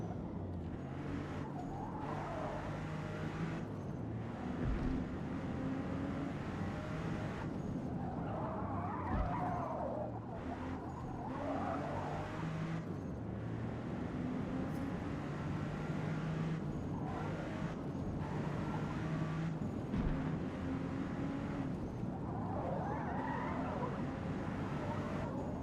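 A rear-engined car drives through corners in the Forza Motorsport video game, its engine droning steadily while tires skid and squeal in repeated bursts, with someone talking over it.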